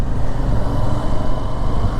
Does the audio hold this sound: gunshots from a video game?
no